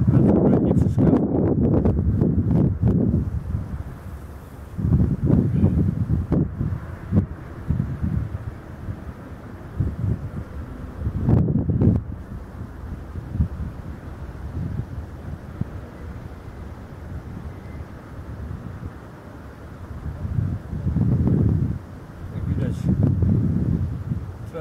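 Strong wind buffets the microphone while ice fishing for perch on a frozen lake, steady roaring gusts rising and falling throughout, with someone talking over it at times.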